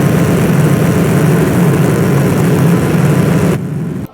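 A Diana 2 rocket thruster in a video game roars in a steady, loud, continuous test burn, then cuts off abruptly, leaving a brief quieter tail.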